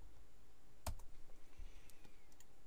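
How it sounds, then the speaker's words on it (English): Quiet keystrokes on a computer keyboard as a web address is typed, a sparse run of soft clicks with one sharper tap, close and alone. "we'll just type this URL"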